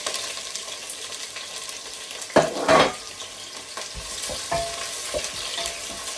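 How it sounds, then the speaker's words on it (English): Onions drop into hot oil in a pan and sizzle loudly, a bright continuous crackle with a sharper burst of spitting and stirring near the middle, then settle into a steady fry. "so my oil is done. I put in the onions."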